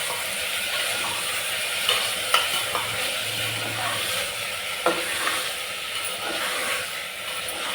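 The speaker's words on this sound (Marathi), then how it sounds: "आता आपण ह्यामध्ये बटाटा घालून घेऊया आणि बटाटा सुद्धा छान परतून घेऊया कांद्यामध्ये" Potatoes are stir-fried with onions in a pan, a continuous close sizzle with repeated scraping and clinking of a spatula against the metal as the pieces are tossed.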